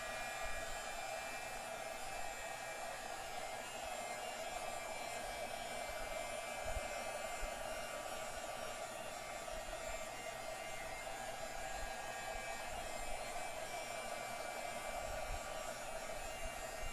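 A heat gun blows steadily while warming the display of a Samsung Galaxy Tab 4, a constant, even airy roar with a faint tonal whine that never changes across the stretch.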